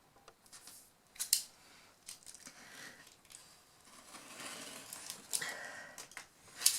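Scissors snip through clear plastic stamp packaging in a few sharp, close cuts amid soft rustling of the plastic.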